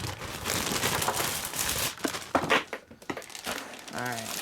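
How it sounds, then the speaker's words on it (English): Plastic wrap crinkling and rustling as it is pulled off a boxed GameCube keyboard controller imported from Japan; close, irregular crackles with brief pauses and a soft voice near the end. "So, get it out of the wrap here."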